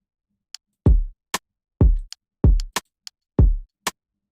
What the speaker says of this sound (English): So I added the peck and it sound like this.